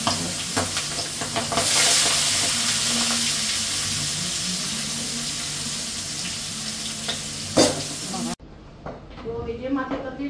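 Fish frying in hot oil in a kadai, a steady loud sizzle and crackle running for several seconds with occasional sharper spits, then cutting abruptly to quieter kitchen sounds.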